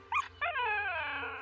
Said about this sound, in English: you ask your dog to be quiet, please